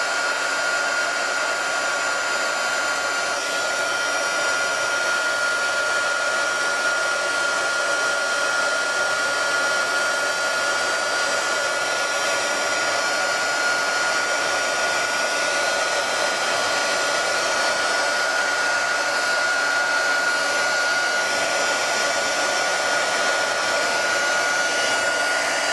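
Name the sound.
heat gun heating heat-shrink on DC motor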